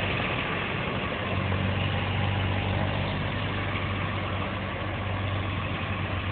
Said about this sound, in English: That loud ass ECU.